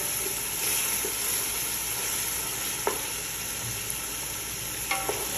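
A tomato paste and chopped tomato mixture sizzles steadily in a hot pan while being stirred, with a constant frying hiss and a few light scrapes and taps from the spoon.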